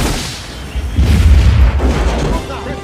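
Film gunfire and heavy booms as soldiers shoot at a plane over Zaire, a dense rumbling barrage swelling in the middle with deep low thuds, loud and continuous.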